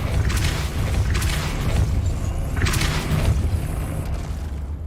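The Depulso spell is cast in Hogwarts Legacy, producing loud, deep booming blasts with swooshing bursts at intervals over a dense, continuous rumble of game effects.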